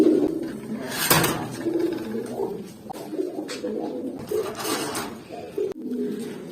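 Pigeons coo in a loft where senior and junior birds are being paired. Soft, rounded coos repeat close by, with a sharp wing flutter or scrape around the one-second mark.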